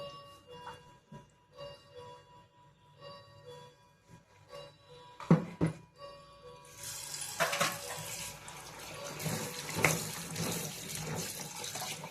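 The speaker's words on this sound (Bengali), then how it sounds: "এবার ভালো করে আলুগুলোকে আর করলাগুলোকে ধুয়ে নেব" Tap water runs into a sink as potatoes and bitter gourds are washed by hand, starting with scattered knocks and splashes and then becoming a steady close gush of flowing water.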